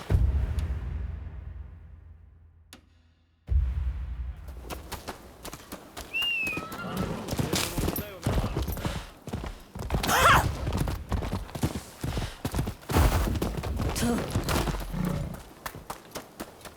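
Clip-clopping hooves and a horse's whinny in the video game Rise of the Ronin, with steady hoofbeats over background music and effects.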